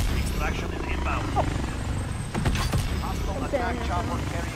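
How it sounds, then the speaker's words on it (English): Hostile attack helicopter in Call of Duty Warzone, a steady low rotor drone and mechanical rumble running throughout, loud and close, with brief bursts of game effects layered over it. "Hostile attack chopper carrying cash. Shoot him down."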